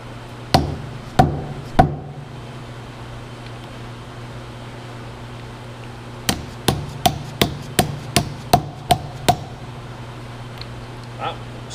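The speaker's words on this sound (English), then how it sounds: "So we'll grab a dead blow hammer and give this a knock or two." A dead blow hammer knocks on a rototiller's hydraulic drive motor: three sharp blows, a pause, then a quick run of about ten more even knocks, close and clear over a steady low hum.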